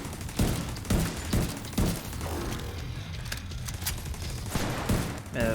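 Gunfire in the video game The Division 2 comes as a series of sharp, irregular shots, roughly eight or nine cracks spread over a few seconds. The shots are set against a steady background of combat rumble at moderate loudness.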